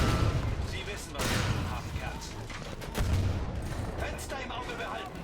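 Battlefield V gunfire in a World War II setting, a mix of shots and heavy booming blasts rolling on and off, with someone talking over the fighting.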